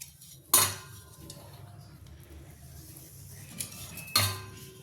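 A knife cuts steamed idli into squares on a plate. Two sharp metallic clinks stand out against quiet kitchen background, one near the start and one near the end, with a small tap in between.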